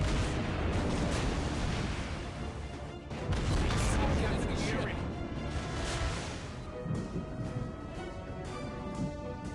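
Naval guns boom repeatedly in World of Warships Blitz, a destroyer battle with heavy dense blasts and rumbling over continuous game noise, with someone talking throughout.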